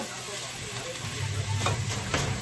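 Bitter gourd sizzling as it fries in a pan, with scraping stir strokes over a steady hiss that grows louder and fuller toward the end, no voices.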